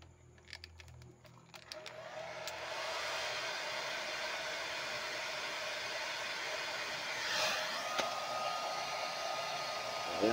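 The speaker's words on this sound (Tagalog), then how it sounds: "pag nagbubbles, kailangan nyo lang siyang i-blower" After a few clicks and handling noises, a blower starts up to dry a decal on a motorcycle and runs with a steady, loud whooshing hiss until the end.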